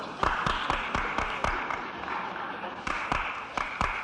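Audience clapping at a public talk in San Francisco, a scattered patter of individual hand claps in loose irregular rhythm, moderately faint and roomy, with a brief pause before more claps.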